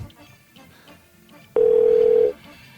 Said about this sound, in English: I'm just going to ring this phone